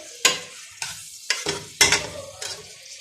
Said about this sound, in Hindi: अब थोड़ा सा प्याज को हम सौते करेंगे